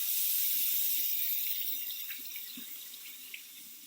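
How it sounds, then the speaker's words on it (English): Warm tap water runs steadily into a sink as hands are rinsed, a continuous close hiss with faint splashes, gradually easing in level and heard alone. "we're going to start by rinsing with warm water"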